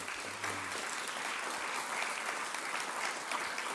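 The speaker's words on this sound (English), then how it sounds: "let's give all of them a round of applause as well" Applause from an audience honoring partner agencies and the National Guard at an anti-human-trafficking event, a steady, dense wash of clapping that fills the whole stretch without letup.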